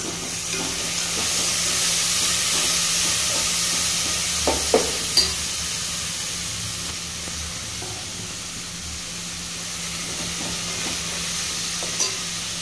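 Thinly cut green chillies frying in hot oil for egg biryani, a steady close sizzle and hiss running throughout, broken by a few faint clicks of stirring.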